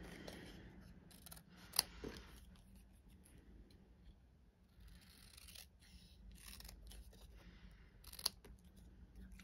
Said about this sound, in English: So I'm just going to cut along there.